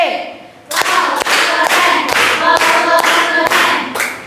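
A classroom of students claps in unison for group 2, sharp rhythmic group claps about every half second over chanting voices.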